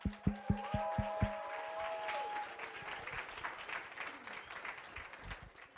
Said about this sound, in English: We're going to give them a very loud round of applause every time someone comes up.